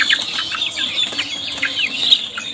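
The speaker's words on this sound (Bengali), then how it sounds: "এই মুরগিটার নামই হচ্ছে টাইগার মুরগি।" A Tiger breed hen on a village farm clucks in short, repeated bursts, close and lively, with faint bird chirps around it.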